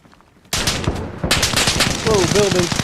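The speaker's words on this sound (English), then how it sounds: "Taking fire from the building." Loud, close automatic gunfire erupts from a building during squad combat training, a sustained rattling burst that starts abruptly and continues with overlapping shots, with voices shouting briefly underneath.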